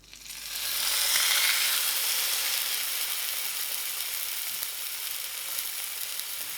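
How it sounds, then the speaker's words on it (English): Steak laid into a smoking-hot pan with rendered fat, bursting into a loud steady sizzle that swells within the first second and holds as an even, close frying hiss with no talking. "when your pan is smoking hot, you're gonna add your steak"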